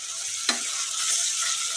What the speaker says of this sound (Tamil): வெங்காயம் நல்லா வதக்கிக்கலாம்